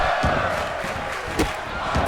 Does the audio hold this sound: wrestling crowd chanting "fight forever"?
yes